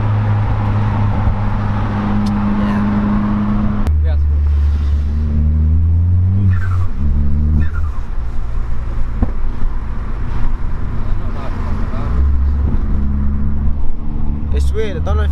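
Ford Fiesta ST with a Stage 3 Revo tune revving and shifting on the road, a loud close engine drone rising and falling through gears with occasional exhaust pops and rumble, while people talk.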